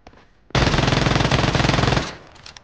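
Sustained automatic gunfire in BGMI on the Livik map, a loud, close burst of rapid continuous shots lasting about a second and a half, preceded and followed by quieter ambient game noise.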